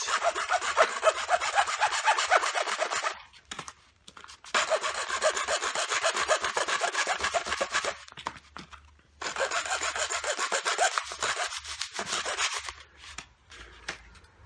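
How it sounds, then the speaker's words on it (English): Small hacksaw cutting through a metal microwave door handle rod, three long stretches of rapid back-and-forth rasping strokes separated by short pauses, close and loud. "little hacksaw"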